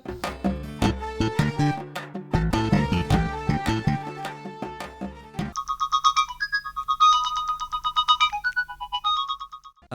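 A mobile phone plays a melodic electronic ringtone for an incoming call. Chiming synth notes repeat in rhythmic phrases, then switch to a brighter, higher tune midway. It sounds moderately loud and close, with no voices.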